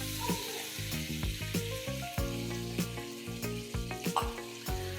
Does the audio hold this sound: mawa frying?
yes